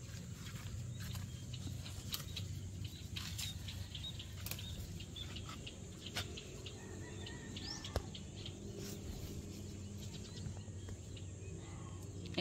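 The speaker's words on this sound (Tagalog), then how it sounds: "Nagaganig yung mga ibon." Many small birds chirp and tweet outdoors in scattered, sharp calls over a faint, steady background hum, with no talk.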